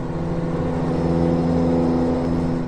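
A Peterbilt 359 truck engine in American Truck Simulator, a steady mid-pitched diesel drone holding an even idle-like tone throughout, loud and close with no voices.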